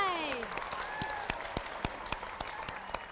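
Studio audience applause on a Vietnamese dating game show, a dense wash of clapping running steadily throughout, with scattered sharper claps and a faint sliding tone fading in the background.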